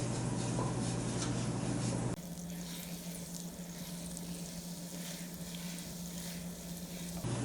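Oregano sizzles in hot oil in a pan for a spaghetti sauce, a continuous close crackling hiss that stays steady throughout.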